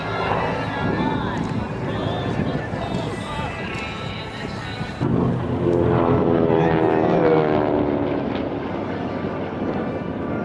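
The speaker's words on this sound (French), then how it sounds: "L'Avenger était un bombardier torpilleur" A Grumman Avenger torpedo bomber, a propeller aircraft, flies at the Melun Villaroche Air Legend show in 2019. It makes a steady, droning engine and propeller roar that swells slightly, with wind buffeting the microphone.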